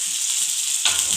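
Okra sizzling and roasting in a hot pan, a steady bright fry hiss with a brief stir or shift near the end, close and alone with no voices.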